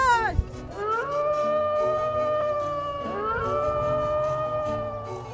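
A wolf howls in long, sustained, wavering tones, sliding upward into two steady drawn-out howls that carry on alone over a low background hum.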